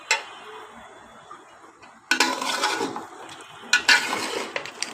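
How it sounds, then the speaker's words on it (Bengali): Crab cooks in a pan with garlic, turmeric, cumin paste and green chili, a soft sizzle broken by two bursts of a utensil scraping and clattering against the pan. "রসুন আর হলুদ আর জিরে বাটা আর কাঁচামরিচ দিয়ে আমি রান্না করছি।"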